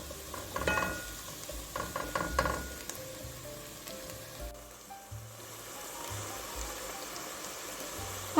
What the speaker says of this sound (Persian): قارچای اسلایس شدهمون رو اضافه میکنیم. شعله رو زیاد میکنیم